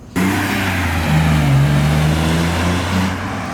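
A BMW E46 convertible with an open differential and upgraded bushings doing donuts, its engine holding a loud, sustained droning note that wavers slightly in pitch, close by and without talk.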